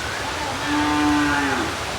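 A calf moos in the rain, one drawn-out, rising and falling call that swells in the middle against a steady background hiss.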